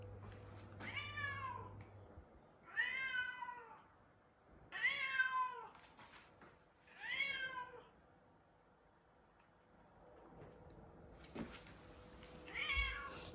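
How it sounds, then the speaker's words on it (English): A Sacred Birman cat meows repeatedly indoors, four drawn-out, wavering cries in close succession followed by a quieter pause and one more meow, loud and near with no talking. "This variety of cat, it's a sacred Burman."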